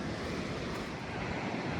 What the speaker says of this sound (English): Beautiful day out on the beach.